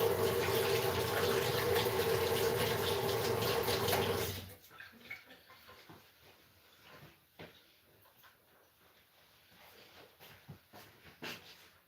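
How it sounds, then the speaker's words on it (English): Hands are washed under a running tap: a loud, steady gush of water flows for several seconds, then shuts off, leaving faint drips, light knocks and small movements. "Wash my hands now again."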